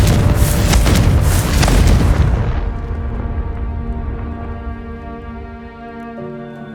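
A Confringo blasting spell explodes in the video game Hogwarts Legacy, a loud roaring blast that rumbles for about two seconds and then fades into a lingering ringing tail.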